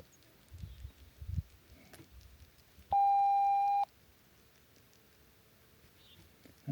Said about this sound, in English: That's the sound of my phone making noise.